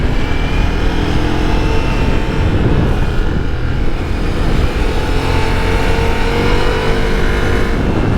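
A Ducati Multistrada V4S motorcycle pulls hard under wide-open throttle, a loud, continuous engine roar that holds steady close by for the whole stretch, with no talking.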